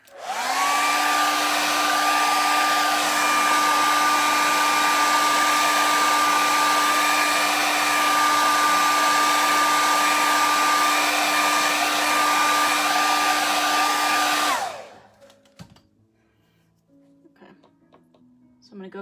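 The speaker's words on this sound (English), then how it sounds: "And use my handy dandy blow dryer." A handheld blow dryer runs close and loud with a steady whirring roar for about fifteen seconds while drying a watercolor painting, then clicks off into quiet with faint handling sounds.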